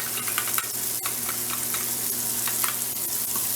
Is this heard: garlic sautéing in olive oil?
yes